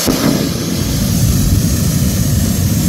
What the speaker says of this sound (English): You hear the engine starting up, and it sounds pretty cool.